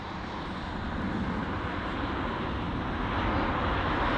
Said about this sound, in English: Obviously, this aircraft vacating off the runway. It seems to be the A320.